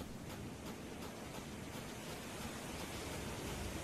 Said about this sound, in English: it's mostly wind noise coming off the ocean, but that the noise of the water.